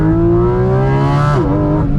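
Porsche GT4 RS high-revving engine pulling hard under load, loud and close, rising steadily in pitch then dropping briefly as it shifts before climbing again, on an alpine glacier road climb.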